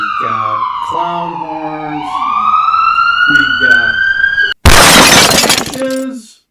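An ambulance siren effect plays from a soundboard, a loud wailing tone that sweeps up and down, then cuts off abruptly into a burst of crashing noise.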